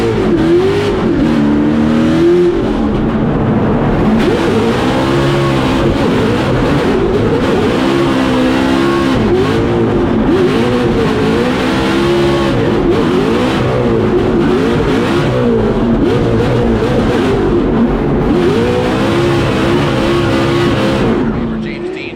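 Drift cars slide through the street course at Formula Drift Long Beach, including an RTR Mustang, their engines roaring loud and steady with rising and falling revs across the whole stretch while an announcer talks over them.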